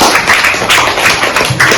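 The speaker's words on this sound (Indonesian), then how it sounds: "berikan tepuk tangan untuk Tuge ya" Schoolchildren in a classroom clap for a classmate, a short burst of quick, slightly uneven hand claps from a small group, close and fairly loud, lasting under two seconds.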